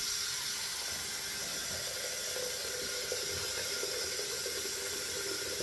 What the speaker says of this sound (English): So I got this rag wet.